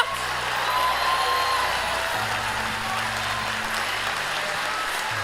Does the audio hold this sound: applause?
yes